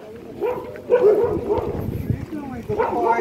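Dogs bark and yip at an outdoor dog park in short, uneven bursts at moderate distance, mixed with general crowd murmur and people talking nearby.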